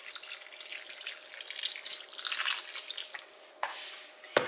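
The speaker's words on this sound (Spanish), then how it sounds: "Le vamos a poner un poquito de agua" Water is poured over potatoes and carrots in a pot while cooking chicken in beer, a steady bright splashing and trickling stream ending with a couple of clinks, close by.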